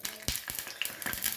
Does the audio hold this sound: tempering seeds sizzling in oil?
yes